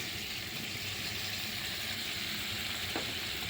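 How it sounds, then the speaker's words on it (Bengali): Pointed gourd cooks with sour yogurt in a pan, giving a steady, even sizzle of frying with a brief scrape of stirring near the end, close and continuous throughout. "টক টক দই দেবার পর ভালো করে কষিয়ে নিচ্ছি আরও"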